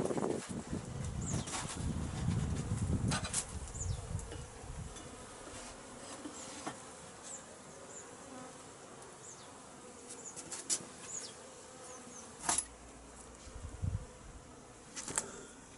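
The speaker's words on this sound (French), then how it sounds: "On voit que les abeilles sont bien au centre de la ruche." Honeybees drone inside an opened wooden hive being prepared for winter, the colony clustered at its centre; a steady, soft buzz runs throughout, with occasional louder passes of single bees and faint clicks nearby.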